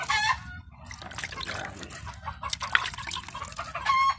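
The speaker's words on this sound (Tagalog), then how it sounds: "Pasensya na guys sa ingay dahil kahapon na marami ng manok." Several chickens cluck and squawk close by in short, uneven bursts, with a hint of crowing over a low background rumble.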